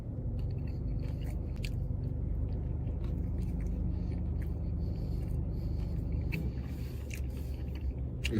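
Close chewing of a grilled chicken sandwich with bacon, continuous moist munching with faint crunches over a low background rumble.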